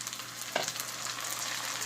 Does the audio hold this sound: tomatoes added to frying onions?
yes